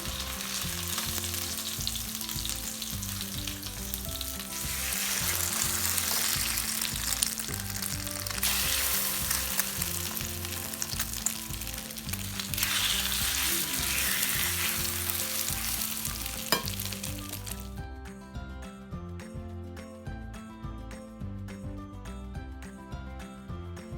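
Chicken cutlets for Chicken Francese frying in a pan, a steady close sizzle and crackle running throughout, louder in the middle stretch and easing toward the end, with no talking.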